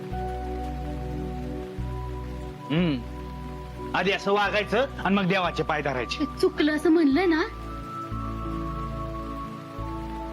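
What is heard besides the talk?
heavy rain pouring down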